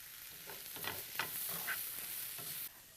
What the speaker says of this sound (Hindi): इसे भी सौते करना है हमने।